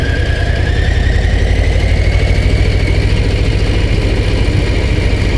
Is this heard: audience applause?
no